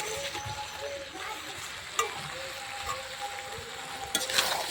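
A pan of spiced egg and potato curry sizzling steadily at moderate volume, with scraping stirs, a few sharp spoon clinks against the metal, and a voice talking faintly underneath.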